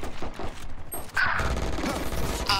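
Gunfire in the video game Valorant, with sharp pistol shots and a burst of fire landing close together, followed by impact and game effect sounds with no voice.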